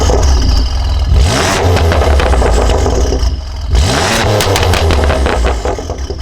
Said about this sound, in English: I paired a Fab-speed exhaust, full exhaust, and